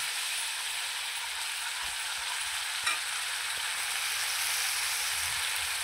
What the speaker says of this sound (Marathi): हिरवं वाटण, आलं, लसूण, मिरची, कोथिंबीर हे टाकून चांगलं असं ह्याला फ्राय करून घ्यायचं